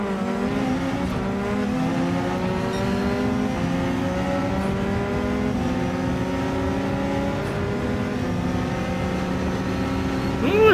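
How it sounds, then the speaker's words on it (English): Peugeot race car in Gran Turismo 7 accelerating hard alongside other racing cars, a steady loud engine roar with rising harmonic sweeps as gears climb, continuous throughout with no talk. "See how it accelerates against Peugeot now."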